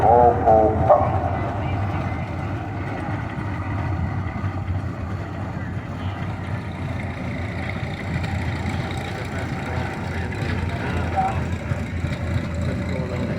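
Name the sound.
1978 Rumley Oil Pull tractor engine running in parade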